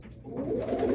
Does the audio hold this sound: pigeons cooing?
yes